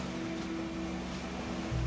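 Choppy ocean waves washing around a 40-foot catamaran motoring through Tikehau pass, a steady rushing wash with an engine hum underneath, close and constant, growing slightly louder at the end.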